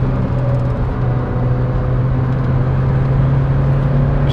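Lancia Delta Integrale Evo 2 driving under steady load, a constant engine drone and road rumble from inside the car with no clear braking event standing out.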